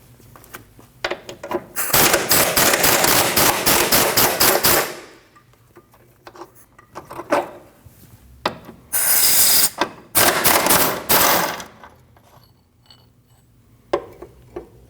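Two 18mm bolts come off the lower control arm of a 2013-2019 Ford Escape, with loud, rapid bursts of clicking ratchet or power-tool rattle separated by quieter pauses and light metallic clanks.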